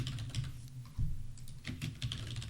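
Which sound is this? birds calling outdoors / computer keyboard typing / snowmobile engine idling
computer keyboard typing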